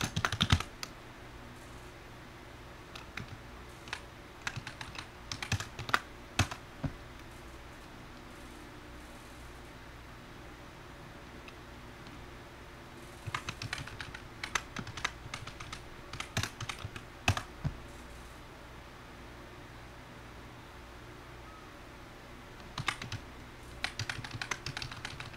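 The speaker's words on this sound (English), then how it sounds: "I can't see what I'm typing while I'm looking at the other screen." Someone types on a computer keyboard in bursts of rapid key clicks separated by quiet pauses, close and moderately loud, with no talking.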